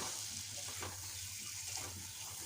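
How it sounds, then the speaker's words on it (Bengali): Tomato frying in oil in a pan for an egg curry cooked like a meat dish, with a steady close sizzle and soft stirring scrapes throughout, no voices. "আর টমেটোটা দিয়ে আর কি ভালো করে ভেজে নিচ্ছি"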